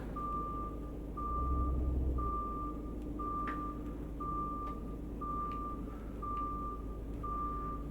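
Reversing beeps from a truck backing up in a UK truck driving game, a steady evenly spaced series of about eight tones over a low, continuous engine rumble, with no voices.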